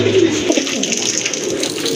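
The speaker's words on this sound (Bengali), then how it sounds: "আরেক জোড়া কবুতর দেখতে পাচ্ছেন একেবারে অরেঞ্জ চিলা কবুতর" A pair of orange pigeons give soft, low throaty coos nearby at a pigeon sale against a steady background hiss.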